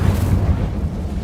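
An Incendio fire spell is cast in Hogwarts Legacy, a loud, deep, rumbling whoosh of flame that fills the whole moment without a break.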